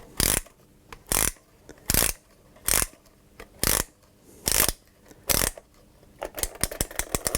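Winder on a First Strike T15 paintball magazine ratcheting in seven sharp, evenly spaced bursts of clicks, followed by a quicker run of lighter clicks, close and alone.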